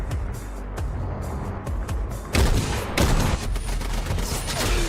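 Gunfire in an animated Fallout battle: sustained crackling rifle volleys and bursts over a rumbling background, with sharper louder shots clustering in the second half.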